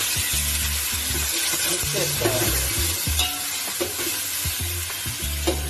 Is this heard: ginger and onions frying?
yes